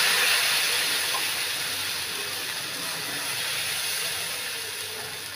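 Thin coconut dosa batter hissing and sizzling on a hot pan, a steady, fairly loud sizzle that slowly eases off, with no talk over it.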